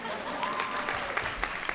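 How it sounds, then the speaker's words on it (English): Graduation ceremony crowd clapping in a hall, a dense steady wash of applause with a voice speaking over it. "oh, do you want to clap?"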